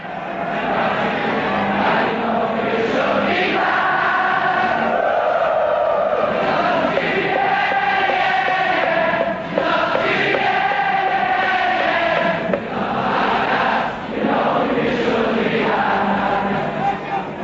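Liverpool football supporters on the Kop terrace singing together, a loud, dense crowd chorus with a steady melodic swell and slight dips, heard alone from within the stand.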